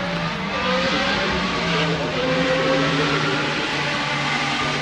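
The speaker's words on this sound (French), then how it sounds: "Son bruit de métallique au V8 et tout." A loud, continuous V8 race car engine roar with a sustained metallic whine, steady and close, at speed at a motor festival circuit.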